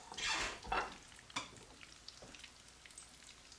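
Chicken schnitzel sizzles in a frying pan with a broadband hiss, punctuated by a few sharp clatters of utensils, fairly close and moderately loud.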